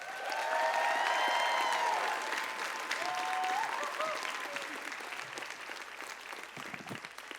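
Sustained audience applause at an indigenous music awards show as the producer and CEO is introduced, a dense, steady clapping that fills the hall and slowly tapers, with a few voices mixed into the crowd.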